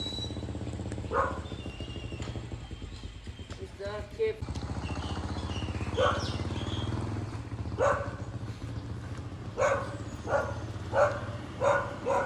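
Dogs bark repeatedly at a Buddhist temple in Saraphi, Chiang Mai, sharp barks growing more frequent toward the end, heard over someone talking and a low engine-like rumble.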